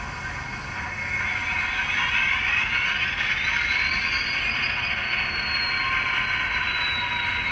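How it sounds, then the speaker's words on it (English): On Track Models 82 class DCC sound locomotive on a test bed, producing a steady, loud diesel engine drone with a rising whine layered on top, continuous and close throughout. "I got the loco up on the test bed as you saw before. So let's have a listen to what the sound is like."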